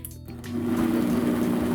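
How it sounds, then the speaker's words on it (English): Kitchen blender running on high with birria taco sauce, starting with a short clatter and then settling into a steady loud motor whir with a churning, buzzing tone. "I blended everything up on high for about 2 minutes"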